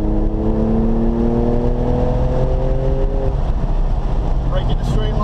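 Porsche 997 C2S engine pulling hard out of a corner on a track, rising harmonic tones climbing steadily, loud and close, with a voice talking over it.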